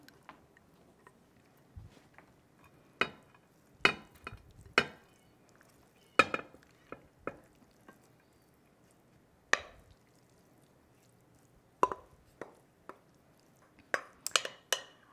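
Spoonfuls of sausage mixture drop into a lightly greased 9x13 casserole dish with scattered scraping, tapping and soft thuds, close by and irregular, a metal spoon clinking against the dish at intervals in a quiet kitchen.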